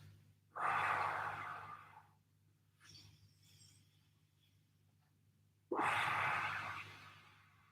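Deep breaths during a home recovery workout session: two long, strong exhales a few seconds apart, with a fainter breath between, close and clear against quiet room hum.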